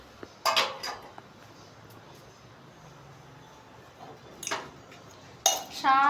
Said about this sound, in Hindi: और कुछ गंदे बर्तन हैं सारे बाहर,